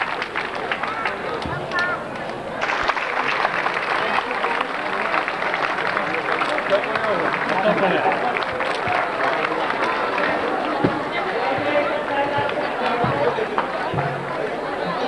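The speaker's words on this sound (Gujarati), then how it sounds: "તાળીઓના ગડગડાટથી આ સન્માનને આપ વધાવી લેશો." Crowd applause at a Gujarati community programme for the Neelkanth Mahadev temple renovation, broad thick clapping mixed with murmuring voices that swells after a couple of seconds and rolls on steadily, with scattered louder claps.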